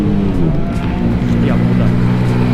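Cars lapping a Japanese drift track on grip runs, their engines roaring and passing close and loud, with someone talking excitedly over the racket.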